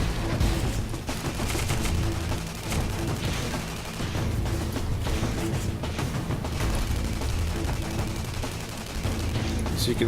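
Assault rifle gunfire in the game Tribes Ascend, rapid bursts of shots crackling almost nonstop with dense explosive booms and overlapping battle noise, loud and continuous.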